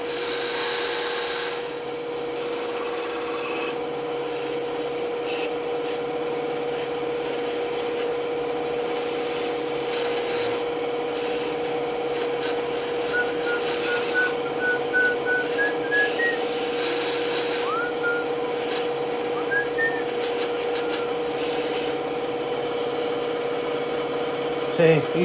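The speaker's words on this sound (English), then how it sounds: "Sometimes you just gotta run the blade down a bunch of times." A band saw blade cuts through wood with a continuous motor hum and a steady tone, with rubbing and scraping of the wood against the blade rising and falling over the run.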